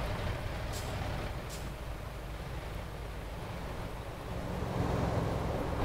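An Irizar i6 Scania bus accelerates in American Truck Simulator, giving a steady, dense engine drone and road rumble that swells slightly toward the end, with a couple of brief hissing bursts early on.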